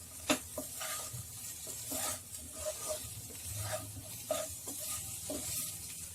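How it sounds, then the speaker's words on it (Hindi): Diced potatoes with ginger and turmeric fry on a high flame while being stirred, giving a close, moderate sizzle broken by repeated scraping and clattering strokes of a spoon in the pan; no speech. "हाई फ्लेम पे इन सभी को हम आलू के साथ मिक्स कर लेते हैं।"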